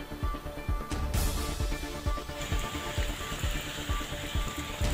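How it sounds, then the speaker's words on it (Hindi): Heavy overnight rain in Gujrat district, heard as a steady, dense broadband hiss of downpour with soft low thumps throughout and no voices. "ज़िला गुजरात में रात भर बारिश का सिलसिला वक्फे से जारी है"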